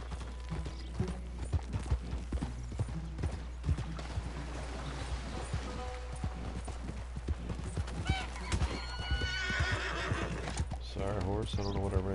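A horse in the Red Dead Redemption 2 video game clip-clops at a steady gait and gives a whinny. Game mechanisms and water-like effects sit under the hoofbeats, and someone talks over much of it.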